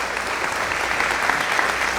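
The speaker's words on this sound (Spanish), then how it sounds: "Vamos a darle un aplauso" Church congregation applauding loudly in a big ovation during a Father's Day worship service, a dense, steady wash of many clapping hands that keeps an even level throughout.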